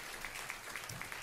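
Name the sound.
congregation applauding the college group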